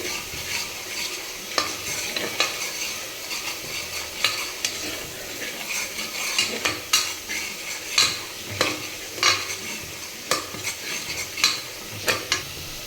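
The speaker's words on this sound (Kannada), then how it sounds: "ಸ್ವಲ್ಪ ಅದು ಹಸಿ ಸ್ಮೆಲ್ ಹೋಗೋವರೆಗೂ ಹುರ್ಕೋತೀನಿ. ಬೆಳ್ಳುಳ್ಳಿದು ಈರುಳ್ಳಿದು ಹಸಿ ವಾಸನೆ ಹೋಗಬೇಕು." Garlic and onion frying in a pan for village-style mutton curry, with a soft continuous sizzle and repeated sharp scrapes and taps of a spoon stirring against the pan, close and alone.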